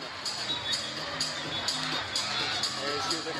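Crowd noise fills the arena on senior night at an NCAA men's volleyball match between BYU and Pepperdine, a steady roar of many voices with periodic swells, with voices mixed into the din.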